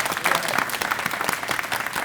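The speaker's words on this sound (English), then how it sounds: "how about one more round of applause for our board" An audience at a school district aviation program pinning ceremony claps for the school board, a moderate, somewhat distant round of applause with individual claps standing out.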